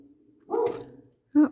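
A dog barks from inside a house, muffled and somewhat distant, a short bark followed by a clipped yip about a second later.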